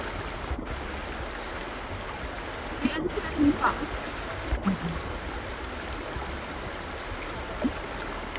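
A river flows steadily beside a cooking spot, a constant soft rush of running water filling the background while faint knocks and small splashes come and go, with a person talking at moments.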